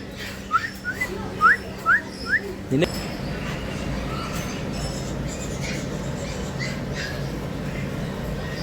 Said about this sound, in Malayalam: നാടൻ തത്തയുണ്ട് നാടൻ തത്തയുണ്ട് കേട്ടോ അടിപൊളി